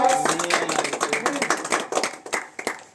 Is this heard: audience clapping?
yes